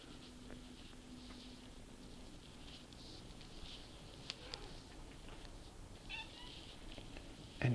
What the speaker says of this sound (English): And here it is, a tuxedo cat